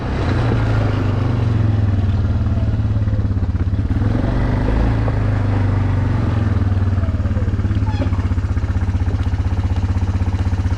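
A Yamaha Wolverine 350 ATV ridden at steady throttle, its engine a loud, close, continuous drone with light mechanical clatter throughout and no voices.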